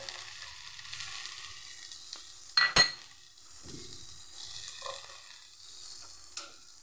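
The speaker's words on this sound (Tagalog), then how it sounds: "Lagay ko muna yung okra guys, tapos yung ingredients." Okra in a frying pan for ginataang tuna, giving a soft steady sizzle with a sharp clink of a utensil against the pan and scraping stir sounds, close by and without talk.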